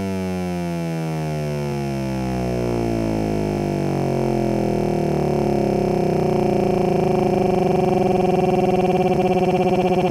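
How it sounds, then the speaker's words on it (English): A synth sample runs through a free-running arpeggiator in a tech house production, repeating very rapidly as a dense, buzzing, sweeping tone that grows steadily louder and brighter over ten seconds. "The arpeggiator is set to free mode, which means instead of being synced to the beat"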